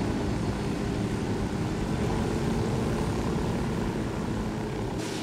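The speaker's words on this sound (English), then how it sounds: "It's just a helicopter." A steady, loud helicopter drone in Ghost Recon: Wildlands, with throbbing rotor and engine hum holding evenly throughout, close and continuous.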